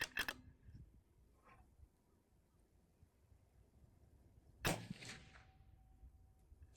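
A single sharp crack from a 6mm ARC precision rifle built for PRS, sudden and loud, trailing off into a faint echo, with softer clicks and handling noises before it and a brief thump after.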